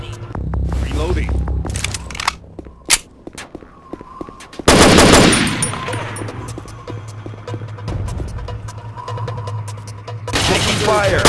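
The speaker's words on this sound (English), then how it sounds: "Taking fire." Gunfire in the tactical shooter CTU: Counter Terrorism Unit, loud single shots and rapid bursts with a heavy blast near the middle, while radio-style voices talk over the fire.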